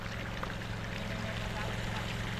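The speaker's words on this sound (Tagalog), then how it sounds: "Natutubigan muna yung kalamansi." Water pours steadily onto calamansi plants, a continuous rushing splash with a low mechanical hum beneath it, close and unbroken throughout.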